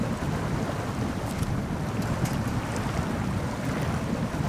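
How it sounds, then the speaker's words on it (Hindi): A truck in the Snowrunner video game ploughs through water and mud, giving a steady, loud rushing wash with constant engine-and-splash noise and no pauses throughout. "क्या चल रही है यार पानी में गाड़ी"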